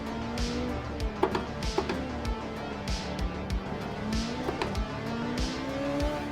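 Race car tires squealing and slipping on the Long Beach street circuit in a sim racing game, a steady high tire whine riding over a droning engine note with repeated sharp clicks and bumps, no talk.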